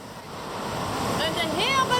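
Rushing river rapids below Niagara Falls roar as a broad, continuous wash of churning water that builds slightly, with a voice briefly audible over it.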